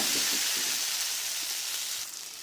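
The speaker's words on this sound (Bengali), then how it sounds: "আবারও ভালো করে নাড়বো এইভাবে আপনারা নাড়বেন" Food frying in a pan for an egg pocket dish, with ginger paste and salt, gives a loud, steady sizzle. The hiss stays close and continuous and eases slightly near the end, with no speech over it.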